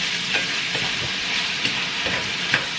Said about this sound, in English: we'll get this browned up all the way. Get the onions a little bit translucent.